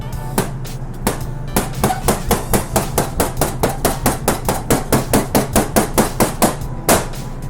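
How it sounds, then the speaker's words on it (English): A chef's knife chops gnocchi dough into pieces on a cutting board, giving a steady run of about two dozen sharp, evenly spaced knocks, close and fairly loud, with no talk. "So I'm going to take this chef's knife and I'm just simply going to cut it into pieces, keeping my fingers back,"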